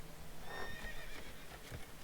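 A faint horse whinny rises briefly in the game Manor Lords, with soft hoof clip-clops nearby, quiet and slightly distant against a low background hum.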